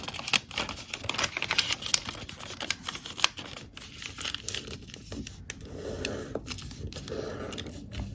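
Origami paper is creased, folded and unfolded by hand up close, giving crisp crinkles, taps and soft rustles in an irregular rhythm, fairly quiet with no voices.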